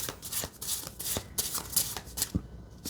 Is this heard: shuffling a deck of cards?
yes